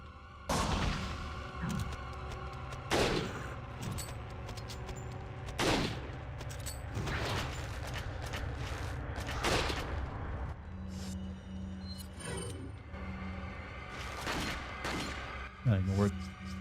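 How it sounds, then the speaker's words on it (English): Rifle shots ring out in Resident Evil 4, a handful of sharp booming reports spread across the stretch amid game sounds and a droning background, with someone talking throughout. "Now I can hit him with the rifle 3 times."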